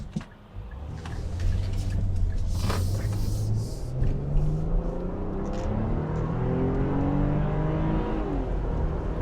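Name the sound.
2022 Infiniti QX60 accelerating through 9-speed gear shifts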